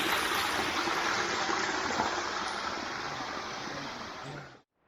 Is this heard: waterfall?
yes